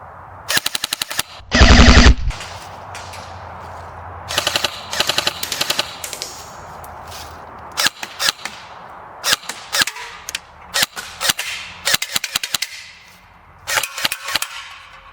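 An airsoft gun fires in full-auto bursts, with one long loud burst near the start followed by many short, sharp rapid strings and single cracks, close and dry, with no talking.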